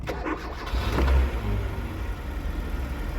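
A used car's engine, 168 thousand on the clock, is started at an outdoor car market, giving a brief cranking surge that catches and settles into a rough, close idle over background noise.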